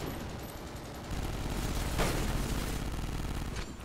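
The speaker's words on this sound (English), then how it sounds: "I'm just shooting the hive, screw it." Steady gunfire from a Call of Duty Ghosts Extinction mode match aimed at an alien hive, a dense sustained rattle of shots with a heavier burst in the middle, loud and continuous with no talk.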